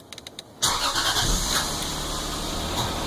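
A Lexus IS300 engine cranks and fires up after an oil change, a short starter whir giving way to a loud, steady idle that settles and runs on close by with no talk.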